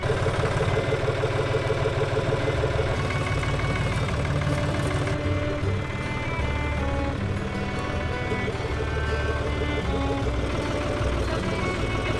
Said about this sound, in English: But luckily, George came to help us out with his tractor.